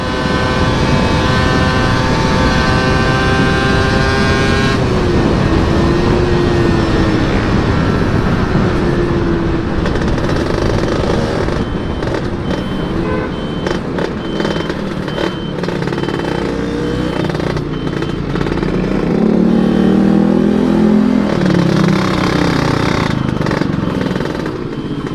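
Small Yamaha F1Z R two-stroke motorcycle engine revving loudly and steadily nearby, its rising and falling whine repeated over about 25 seconds with no talk.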